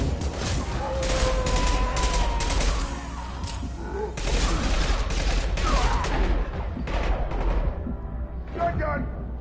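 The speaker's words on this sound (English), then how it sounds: "Shotgun!" Rapid bursts of gunfire and booming shotgun blasts from the Mass Effect 2 video game during combat, loud and dense, with voices shouting over the shooting.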